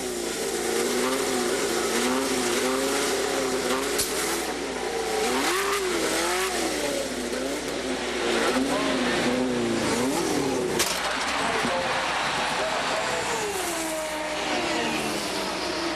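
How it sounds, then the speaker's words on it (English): A loud race car engine revs and drones continuously in the pit at the 1991 Indianapolis 500, pitch rising and falling in repeated surges, close by with steady background noise. "Well, Paul, what he really did wrong was he kept revving the engine up"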